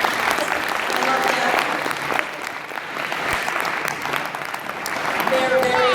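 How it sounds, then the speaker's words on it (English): An audience claps for Katie and Melissa at the end of a speech, sustained crowd applause filling the room with a few faint voices mixed in. "So, clap for them, because that was awesome."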